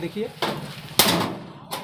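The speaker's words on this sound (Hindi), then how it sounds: "थोड़ा ज़ोर से हथौड़ा मारेंगे।" A hammer punches holes in the metal grill of an air cooler: about three sharp metallic strikes, close and loud, spaced unevenly, with a voice talking faintly in between.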